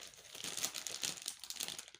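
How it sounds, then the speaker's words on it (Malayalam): Packaging on a packet being unboxed crinkles and rustles steadily, close and quiet, with no talk over it. "നമുക്ക് അൺബോക്സ് ചെയ്യാം."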